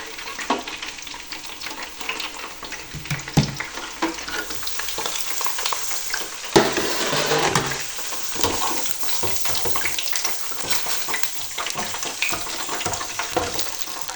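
French fries deep-frying in oil at 190 degrees, giving a steady, dense crackling sizzle with bubbling spurts close by and no voices.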